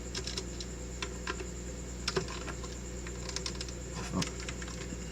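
Rapid typing on a computer keyboard in a Linux terminal, with irregular clusters of close key clicks over a steady background hum, with no talking.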